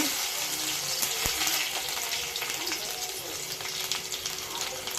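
Crushed garlic cloves frying in oil in a kadai, giving a steady broadband sizzle with watery crackle throughout and a sharp tap near the start.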